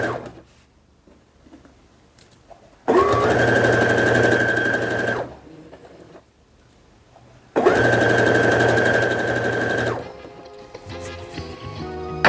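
Sewing machine stitching embroidery backing in two loud close bursts of fast steady whirring, each a few seconds long, separated by quiet pauses with faint handling noises.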